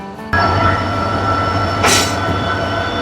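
Howrah–Digha local train rumbling steadily close by, a loud continuous roll with a brief hiss or squeal burst partway through.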